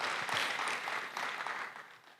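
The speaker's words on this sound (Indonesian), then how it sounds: "Yang setuju beri tepuk tangan yang meriah buat nama Tuhan." A church congregation at a Sunday service gives a short round of applause, soft and somewhat distant, swelling briefly and then tapering off within a couple of seconds.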